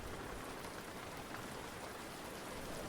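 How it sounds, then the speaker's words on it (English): Steady rain falls in a continuous, even hiss with no let-up, dense and fairly close, with no voices. "You guys can still hear the rain."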